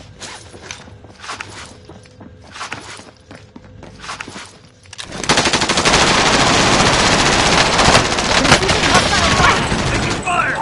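Sustained, loud automatic gunfire in Call of Duty Warzone starts midway after quieter footsteps and movement, with dense overlapping shots continuing to the end as players talk.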